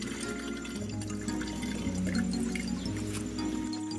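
Water poured over a freshly planted plant, trickling and dripping over a steady musical background with no one speaking.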